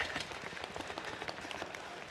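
A church congregation claps together to mimic a thunderstorm, producing a soft, steady patter of many hands like rain, fairly faint and even throughout with no talk.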